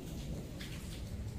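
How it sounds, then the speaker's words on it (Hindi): Heavy rain pours steadily outside a window, a dense continuous hiss and patter with a low rumble underneath, fairly loud and unbroken throughout. "अभी बहुत तेज़ बारिश हो रही है"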